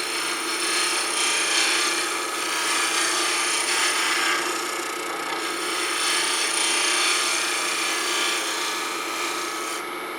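A skew chisel held as a scraper against a spinning wooden pen blank on a lathe gives a steady close rasping hiss over the lathe's hum, swelling and easing slightly across the cut, with no talking.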